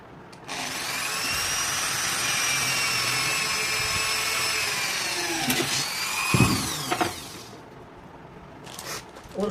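An electric drill bores holes for the wheel of an incubator egg tray, giving a steady high whine for several seconds. It then spins down and ends with a few clunks and handling knocks nearby.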